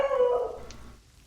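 A street dog howls once, a sustained wavering tone that holds for about half a second before fading, close and fairly loud with no talking over it.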